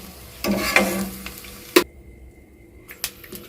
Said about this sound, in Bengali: এবারে আমি পটল ভেজে নেওয়ার তেলের মধ্যে আলুর টুকরোগুলো একটু ভেজে নেবো